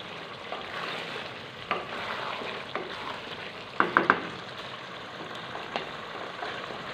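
Chicken, dal chana and whole dried chillies fry in a pan with a soft, continuous sizzle, broken by occasional utensil clicks and a quick cluster of taps midway, with no one talking.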